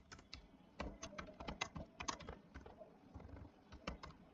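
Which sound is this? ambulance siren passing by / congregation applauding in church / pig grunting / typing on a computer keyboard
typing on a computer keyboard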